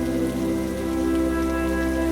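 Heavy rain pours steadily onto surfaces, a dense, continuous hiss of drops at constant loudness with no voices.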